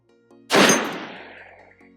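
A single loud, close shot from a Barrett M107A1 .50 caliber rifle fired at a target one mile away, a sharp blast followed by a long decaying rumble.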